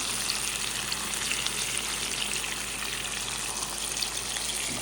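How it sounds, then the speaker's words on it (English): Garlic and rosemary sizzle in a hot pan alongside a steak, a steady, close, moderately loud frying hiss with no talk. "I'm gonna add some garlic and rosemary to the pan."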